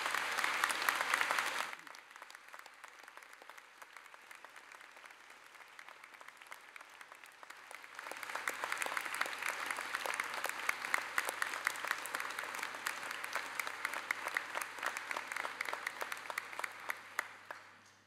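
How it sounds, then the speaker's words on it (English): Graduation ceremony audience in a hall breaking into a big round of applause, a brief burst of clapping, a quieter lull, then a long sustained wave of clapping from a large crowd. "give them a big round of applause"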